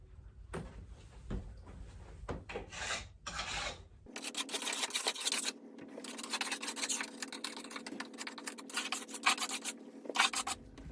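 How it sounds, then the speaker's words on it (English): Scraping and raking at cracks in bedroom wall plaster, close and dry, in short bursts and then longer continuous rasping strokes, with brief pauses between passes. "So I like to rake out the cracks"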